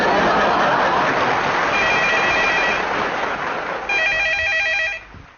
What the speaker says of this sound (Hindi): कब से फोन बज रहा है, उठाता क्यों नहीं है?